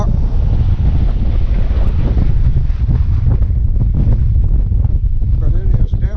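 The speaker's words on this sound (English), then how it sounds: "But it is definitely a windy day here today." Strong wind gusts buffet the microphone on a dock by the water at an RV park in Malabar, Florida, a loud continuous roar with faint water sounds beneath and a person talking over it.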